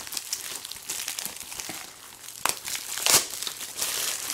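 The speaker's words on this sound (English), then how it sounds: "So go ahead and rip off the plastic." Plastic wrap being torn and crinkled off a Call of Duty Modern Warfare 2 game box, close and crackly, with sharper ripping bursts near the end.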